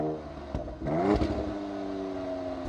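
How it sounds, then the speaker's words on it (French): A 2026 Dodge Charger Sixpack six-cylinder engine cranks and catches, then a rising rev settles into a steady, throaty idle, heard close and alone with a brief mechanical clatter at the start. "c'est le son du moteur. Je vais vous le démarrer"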